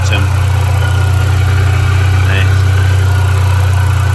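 A 2005 Mini Cooper S R53 engine held at raised revs, a loud close steady drone that stays level throughout with a strong low hum and a brief faint click early on.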